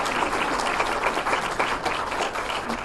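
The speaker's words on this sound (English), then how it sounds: "I'd love y'all to give a quick clap" An audience at a 2023 State of the City address claps for finance director Sherry on her recent marriage, a short burst of dense, even applause from a room of people with individual claps faintly distinct.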